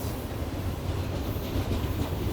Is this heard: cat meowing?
no